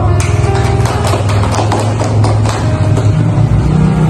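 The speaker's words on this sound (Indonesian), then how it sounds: "Kepada ketiga narasumber, kita beri aplaus dulu." Audience applause for the three guest speakers at a university student talk show, a dense steady wash of clapping filling the room from start to finish, loud and continuous with no talking over it.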